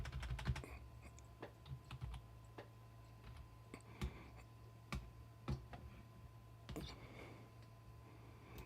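Quiet typing on a computer keyboard at a Lenovo desktop, with irregular soft key clicks scattered over a steady low hum, sometimes in quick clusters and sometimes in single taps.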